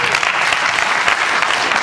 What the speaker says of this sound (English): Almost every lady clapped